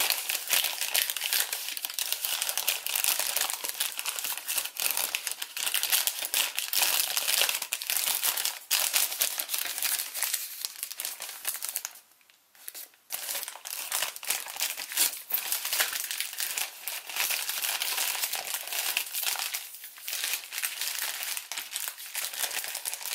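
Paper crinkles steadily while an origami ancient dragon by Satoshi Kamiya is folded and collapsed, a close, continuous rustle with a brief pause midway.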